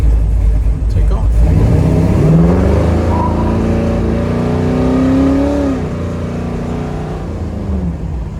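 A 1967 Camaro with a 4L60 overdrive transmission accelerates hard away, its loud engine rising in pitch through the gears before fading into the distance, with a voice briefly heard.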